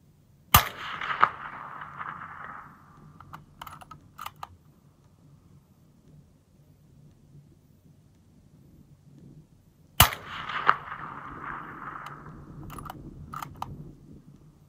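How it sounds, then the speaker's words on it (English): Two sharp reports from a Remington 700 AAC 300 Blackout rifle fired off a tank trap barricade at a PRS match, spaced about nine seconds apart, each followed by a fading echo and faint distant pops over a quiet outdoor range. "This was a pretty rapid fire off of a tank trap barricade that you shoot off of in PRS."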